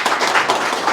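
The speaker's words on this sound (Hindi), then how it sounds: "तालियां हो जाएंगे भैया।" Students in a mobile phone repair training class giving a short burst of hand clapping, close and brisk, lasting about a second on its own.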